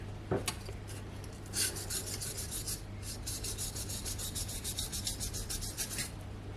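A knife edge is honed on a Naniwa whetstone, producing a quick run of close, even back-and-forth rasping strokes that are soft to moderate, with a small knock near the start.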